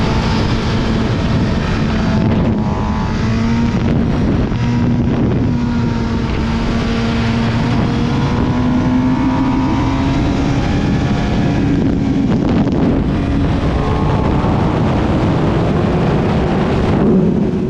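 A go-kart engine drones loud and steady from onboard during a full lap at The Ridge Motorsports kart track, its pitch gently rising and falling through corners, with heavy wind rush over the microphone.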